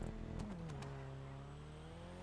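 Elegy race car in the GTA 5 video game, all-wheel drive, racing in a championship: a steady, loud engine drone with a gear shift and a pitch drop, continuous throughout with no talk.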